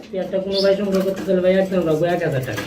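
Pigeons at a pigeon market give loud, close cooing with a low, rolling, throaty tone that carries on almost without a break.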